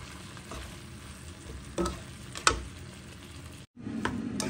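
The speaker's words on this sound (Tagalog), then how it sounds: "Ngayon naman, lalagay ko yung aking sausage kasi wala akong hotdog." Sausage fries in a pan with onion, garlic and chicken, giving a steady close sizzle with a few stirring scrapes and clicks and one brief cutout near the end, with no talking.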